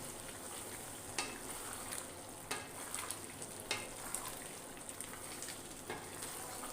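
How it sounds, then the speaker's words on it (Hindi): Chicken kofta masala fries in a pan with a soft, steady sizzle while a spoon stirs, tapping the pan with scattered light clicks; quiet and without talk. "मैंने अच्छी तरह हिलाना है और इसे हमने मज़ीद 5 मिनट तक भूनना है।"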